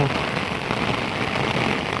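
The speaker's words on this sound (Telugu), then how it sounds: "ఇప్పుడే పడ్డది అంటే ఇప్పుడే స్టార్ట్ అయింది వర్షం" Steady rain pouring down, a dense, continuous hiss of drops striking a surface, fairly close and even throughout with no voices.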